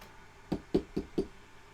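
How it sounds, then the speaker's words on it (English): Four distinct knocks on a door, evenly spaced about a quarter second apart, moderately loud against a quiet background with no voices. "The knocking came back harder than before."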